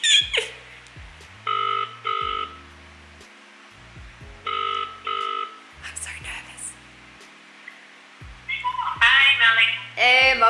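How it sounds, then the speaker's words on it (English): A telephone call is placed: repeated tonal beeps and a recurring ringing pattern in evenly spaced bursts, close and clear, ending with a voice answering. "I'm just about to call my mum on the phone"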